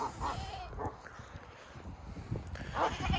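A farm dog gives a few short yips and whimpers at close range, broken up by moments of rustling and handling noise, with no talk.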